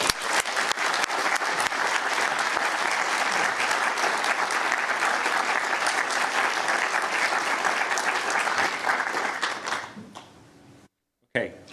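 A lecture-hall audience gives a sustained burst of clapping to welcome a professor to an inaugural lecture. The applause is dense and steady, then fades out near the end and leaves a brief silence.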